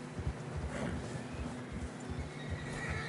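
Horses neigh and clop through fresh snow on a narrow trail in Red Dead Redemption 2, a whinny over a continuous rhythm of hooves, close and fairly quiet against the game's ambience.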